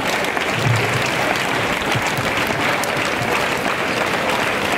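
A large crowd at a Republic Day run event with a 350-foot national flag breaks into loud, sustained applause, a dense, even wash of clapping that holds steady throughout.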